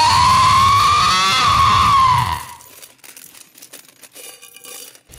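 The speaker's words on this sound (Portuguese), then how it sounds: "O fantasma, em resposta, deu um grito tão assustador e sacudiu as correntes com um som tão" A ghost gives a loud, wavering scream for about two seconds, followed by quieter scattered rattling and crinkling sounds like shaken chains.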